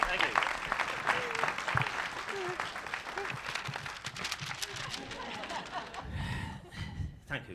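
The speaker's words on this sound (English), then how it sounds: "Round of applause for Mary" Audience applause after a rhythm-and-words stage performance, uneven clapping that rises and falls with voices talking over it, thinning out toward the end as the room quiets.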